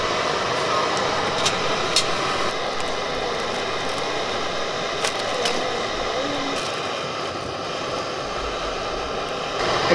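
A camping stove burner roars steadily while boiling water at a canoe campsite in the Adirondacks, a loud, constant jet-like rush with a few faint clicks and no speech over it.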